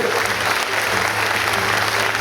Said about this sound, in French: Applaudissez-les bien fort, mesdames, messieurs.